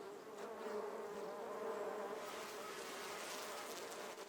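A honeybee colony hums inside a wooden hive box, a dense, steady buzz of many bees, close and even throughout with no voices.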